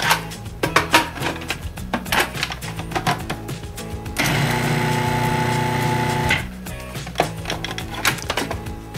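Salt and sugar being mixed for a pumpkin pie crust, heard as a steady whirring burst of about two seconds that stands out from the light clattering and background music around it.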